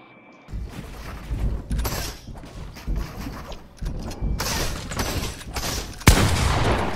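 Gunfire from a Fortnite Zone Wars match, a video game: repeated bursts of sharp shots and rapid volleys in irregular clusters, loud and close, with a heavier blast near the end and no talking.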